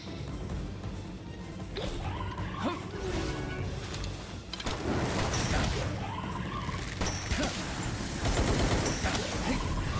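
Rocket slam attack by a Pal in the Palworld video game: a run of loud crashing, booming impacts and bursts, with game sounds and effects throughout and no talking.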